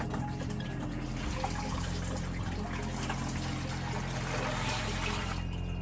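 Water leaking from a twisted pipe in a van build and running steadily into a bucket used as a gray water tank, a continuous close trickling pour with no talking.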